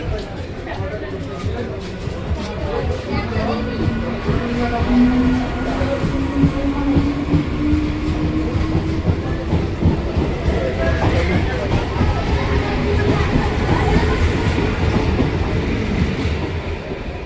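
A passenger train pulling out of a station, with a steady rolling rumble and faint rising mechanical whine as it gathers speed, close and loud, with people talking nearby over the noise.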